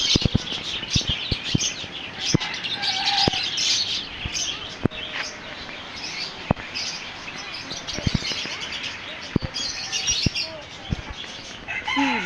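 Large chickens clucking with a rooster crowing at moderate distance, mixed with bird chirps and scattered sharp clicks and knocks, no clear talking.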